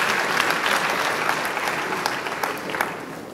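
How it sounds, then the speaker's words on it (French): Sustained applause from a seated audience at a commemorative conference in Côte d'Ivoire, a dense, even wash of clapping filling the whole stretch without any voices over it. "Je vous demande encore d'applaudir ces trois dames."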